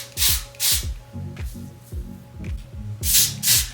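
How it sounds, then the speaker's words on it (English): Short bursts of Wonder Bond aerosol adhesive spray hiss onto wig lace alongside rhythmic rubbing and clicking noises, close up, with no talking. "I'm gonna take some more of my Wonder Bond spray. I'm gonna spray it"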